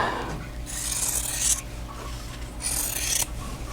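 Rotary cutter or blade trimming vintage Star and Cross quilt block pieces, two bursts of rasping, scraping strokes close up, steady and fairly loud with no talking.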